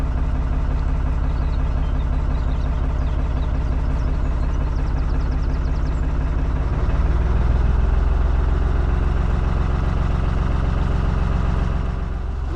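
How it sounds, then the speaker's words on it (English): Boat engine idling at a mooring before casting off, a steady low rumble close by and running alone throughout, swelling slightly louder partway through as revs rise. "Engine going, time to cast off."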